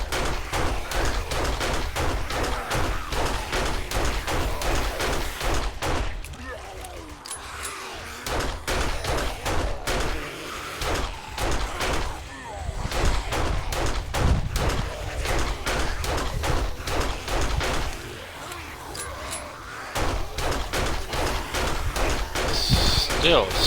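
Quick regular pistol shots in the survival video game 7 Days to Die, a steady rapid rhythm of cracks over twenty seconds with someone talking throughout.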